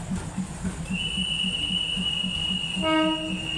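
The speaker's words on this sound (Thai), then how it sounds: "นี่นะคะรถไฟกำลังจะออกนะคะ" A train departing on the Maha Chai–Wongwian Yai line rumbles with a rhythmic clatter of wheels, then a long, high horn sounds and holds steadily over the rolling noise.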